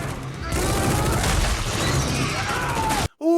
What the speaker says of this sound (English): because of the firefight outside